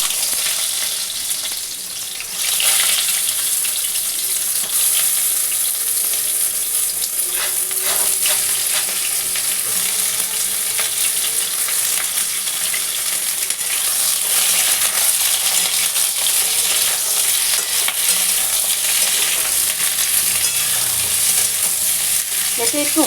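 Ridge gourd pieces frying in a kadai with nigella seeds and a dried chilli, a loud, sustained sizzle close up after a short quieter opening, with occasional scraping stirs and no talking.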